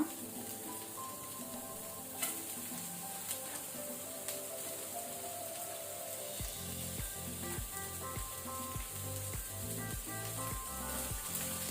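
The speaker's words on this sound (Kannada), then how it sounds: "ಈಗ ಸೇಮ್ ಪ್ಯಾನಿಗೆ ನಾವು ಅನಿಯನ್, ಈರುಳ್ಳಿಯನ್ನು ಹಾಕೊಳ್ಳುವ" Chopped onions go into the same hot pan used for frying capsicum, a steady sizzle rising about midway and continuing loud, with rhythmic stirring or scraping bursts and no one speaking.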